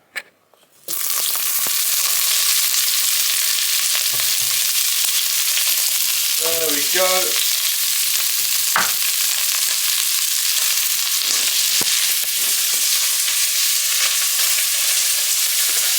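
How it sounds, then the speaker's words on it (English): Chicken thighs dropped into a pan of hot oil, bursting into a loud, steady sizzle that holds for the whole stretch, with a brief spoken phrase near the start. "these can go straight into our pan of boiling oil, or hot oil"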